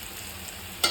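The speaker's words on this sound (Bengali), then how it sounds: "এই যে এখানে পেঁয়াজটা ভাজা হয়ে গেছে।" Onions frying in a pan give off a brief, faint, steady sizzle that ends in a short, sharp burst of stirring.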